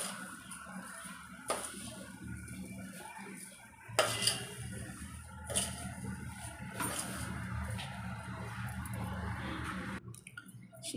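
Amla being mixed with half a kilo of sugar in a pot: soft wet squishing and scraping with occasional metallic clinks of a spoon against the pot, steady and close, with no talking.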